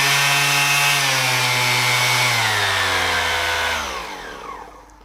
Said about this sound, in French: On va retrouver sur la face avant le bouton de démarrage de la ponceuse avec 3 vitesses.